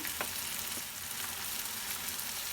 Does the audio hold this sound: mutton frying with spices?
yes